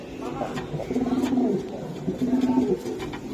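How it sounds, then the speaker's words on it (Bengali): Racer and giribaj pigeons coo in low, throaty, repeated phrases, close and fairly loud, with light rustling and faint background noise between the calls. "1000 টাকা, চমৎকার গেটআপের কবুতর।"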